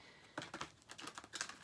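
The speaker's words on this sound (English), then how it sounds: "This one is enormous, a little difficult to shuffle" A large, oversized tarot deck being shuffled, giving a run of soft, quick papery riffles and card flicks close by, starting after a brief quiet moment and continuing unevenly.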